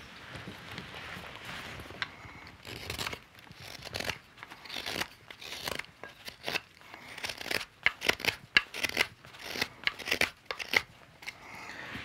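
Hook knife carving wood, with dense, irregular shaving and scraping strokes, crisp cuts and crunchy tearing of fibers, close and fairly quiet with brief pauses between strokes.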